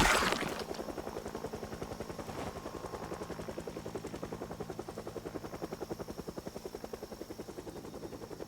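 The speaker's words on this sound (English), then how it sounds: "If the helicopter comes back, then that sucks" Video game helicopter with a rapid, even rotor beat that holds steady throughout after a brief louder burst at the start, no voices present.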